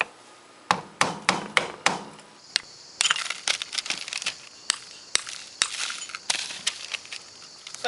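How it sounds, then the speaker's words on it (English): Black mineral coating is chipped off a rock sample with rapid, irregular metallic taps and crunchy scraping, many sharp hits close up with brief gritty bursts between them and no talking. "Let's see if I can get some of this coating off."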